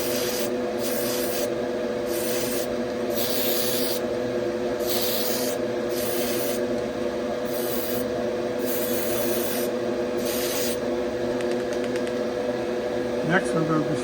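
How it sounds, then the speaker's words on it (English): Aerosol primer sprayed onto a model car roll cage for a 1970 Chevelle scale build, heard as repeated short hissing bursts of about a second each, close and steady over a constant low hum. "I'm going to primer the roll cage."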